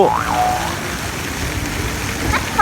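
Steady broadband hiss of a spraying water fountain at Kwan Riam Floating Market fills the scene, with faint chirpy voices or squeaks rising briefly near the start and end.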